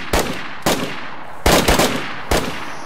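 Gunfire in the DayZ video game: four loud, sharp bursts of shots come at uneven intervals, one of them a quick double crack, all close and punchy with no voices over them.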